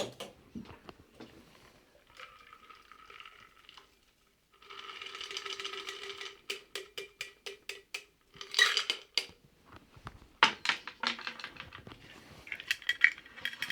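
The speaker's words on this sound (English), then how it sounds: "We'll double strain that into a coupe." A cocktail is poured through a double strainer from a metal shaker into a coupe glass, with ice rattling and clinking against metal and glass in quick bursts between brief pauses.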